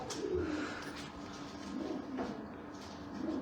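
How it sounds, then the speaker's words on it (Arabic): Pigeons in a Jordanian loft coo in soft, repeated low throaty phrases, several calls overlapping at close range with steady background murmur. "شباب هاي الحمام، تعالوا اوريكم الحمام"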